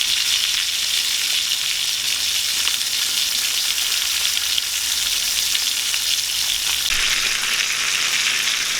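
Steak sizzling in a pan inside a Camp Chef Italia pizza oven, a dense, continuous hiss that holds steady throughout and brightens slightly near the end, close and unbroken by talk.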